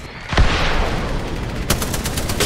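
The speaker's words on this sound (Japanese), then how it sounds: "爆発。" A blast goes off in the battle royale shooter Apex Legends: a loud, close boom near the start, then a continuous roar of gunfire and a rapid run of sharp shots toward the end.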